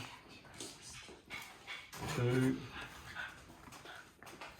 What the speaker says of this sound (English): Excuse the dogs and children in the background.